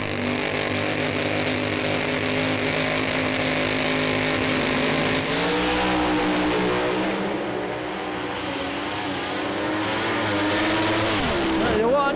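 Drag racing cars at Sydney Dragway in a Pro Slammer and Sportsman event, a 5.75 against a 5.78 run: steady loud engine roar throughout, shifting in pitch late, with a commentator talking over it.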